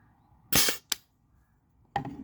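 A Byrna TCR less-lethal launcher firing, a sharp close pop followed by a quick click and then a second pop about a second later.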